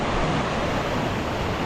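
A fast-flowing river at a Peak District crossing, swollen after heavy rain, makes a close, steady rushing roar with no voices.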